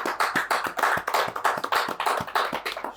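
A church congregation applauds in a steady burst of rapid, overlapping handclaps, fairly close and loud, carrying on evenly for the whole stretch with no voices over it.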